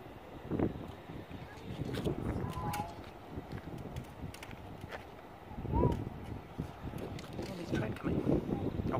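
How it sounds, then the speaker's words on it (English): Outdoor wind gusts buffet the microphone in low rumbling bursts while someone talks over them; a second voice is briefly heard. "there's too much wind here for me to"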